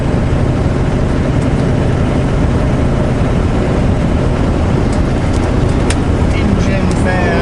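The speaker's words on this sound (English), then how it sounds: "Engine fan." A vehicle's engine fan running, a loud, constant broadband roar with a low rumble that fills the whole stretch without letting up, recorded close by.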